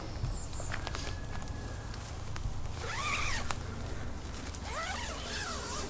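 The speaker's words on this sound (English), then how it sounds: "I get to get inside the bug canopy. Yikes. And zip it shut." The zipper on a Mira II HL tent's bug canopy is pulled shut from inside, faint scratchy zipping in short strokes over a steady outdoor background.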